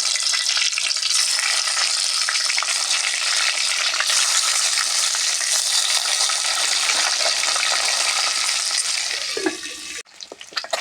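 Eggs coated in turmeric fry in a pan of hot oil, giving a loud, dense, continuous sizzle that holds steady and then drops away abruptly near the end.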